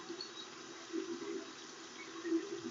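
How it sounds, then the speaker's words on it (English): Water runs steadily from a tap as hands are rinsed after a nail-buffing and waxing routine, a soft continuous stream with brief louder splashes. "And now I can rinse my hands off."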